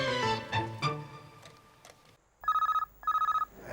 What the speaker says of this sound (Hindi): 12 बजे गिल्ली का ही फोन होगा।